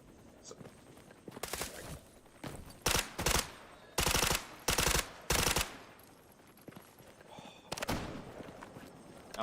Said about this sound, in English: Someone's got a big gun.